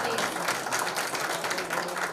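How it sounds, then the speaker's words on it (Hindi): Audience applause at a birthday celebration and album launch event: a dense, steady wash of many hands clapping, loud and unbroken for the whole stretch. "थोड़ी सी और जोरदार तालियां गाइस, थोड़ा सा और"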